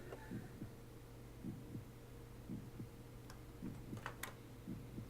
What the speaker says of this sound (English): We can hear our little heart beating.